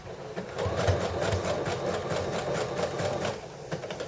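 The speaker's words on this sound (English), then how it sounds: "And then I'm stitching fairly close to this turned raw edge just here." A sewing machine stitches a seam in knit fabric for a slouchy sweater, a close, steady rapid chatter of the needle running continuously.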